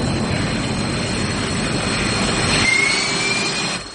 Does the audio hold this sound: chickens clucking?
no